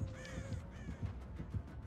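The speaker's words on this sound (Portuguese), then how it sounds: "Mano, ele escutou o corvo." Crows caw repeatedly in the Dead by Daylight video game, harsh calls at a steady rhythm over a low rumbling game ambience, fairly close and clear.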